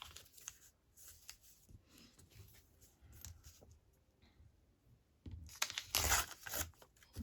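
A paper page from a glue book is torn by hand, with soft rips and rustles close by, ending in a louder, longer tear.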